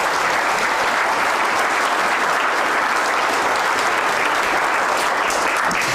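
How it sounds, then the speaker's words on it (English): An audience at a Shakespeare performance competition grand final claps loudly and continuously, a dense, sustained wash of applause from a large crowd filling the hall. "Give him a round of applause, everybody."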